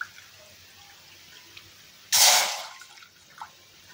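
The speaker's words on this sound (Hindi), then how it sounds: "ये मैंने 2/3 कप पानी डाल दिया" Two-thirds of a cup of water is poured into a pan to make sugar syrup: a quiet room, then one short splashing pour lasting under a second, fading to a faint trickle.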